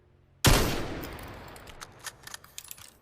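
Gunfire from a Meta Quest 2 VR shooting game: one loud sharp shot with a long decaying tail, followed by a scatter of smaller quick pops and clicks.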